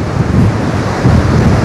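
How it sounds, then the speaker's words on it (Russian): Stormy sea waves crash against the reinforced-concrete shore of a beach in Anapa, a steady, loud, churning roar mixed with gusting wind and no voices. "Видали, какие здесь волны бьются о железобетонный берег этого пляжа."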